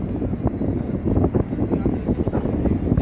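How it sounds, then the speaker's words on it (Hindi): Strong wind buffets the microphone outdoors in Islamabad near the Centaurus towers, a continuous low, gusty rumble that rises and falls throughout, loud and close with no clear sound beyond the blustering. "बहुत तेज हवाएं चल रही हैं।"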